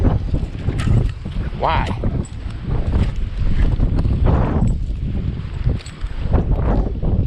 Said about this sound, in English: That wind about blew me right in.